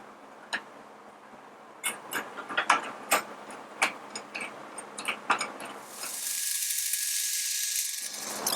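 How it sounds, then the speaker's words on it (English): Shop crane being jacked up by hand in a workshop, a series of sharp clicking ratchet strokes in irregular rhythm, close and moderately loud, followed by a steadier hissing whir toward the end. "Let's go ahead and let's jack it up."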